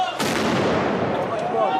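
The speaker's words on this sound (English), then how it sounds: "deadly gunfire between soldiers and Palestinian militants continued on the ground" Gunfire and artillery during a military operation in the West Bank, a sharp blast followed by a sustained rumbling roar and a second crack near the end, heard at a distance.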